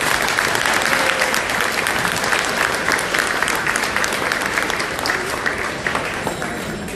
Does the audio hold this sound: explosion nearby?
no